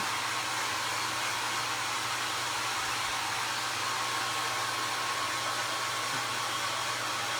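A hair dryer blows nonstop to dry craft material for a patriotic float, a steady close roar with a low motor hum beneath it and no voices.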